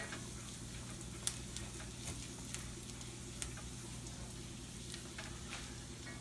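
Garlic and eggs cook slowly in a pan, giving a faint, steady low sizzle with a few scattered light ticks and pops, quiet throughout.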